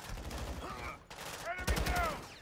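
Bursts of gunfire in the Modern Warfare 2 campaign video game, short rapid shots, fairly faint and mixed with voices and ringing tones.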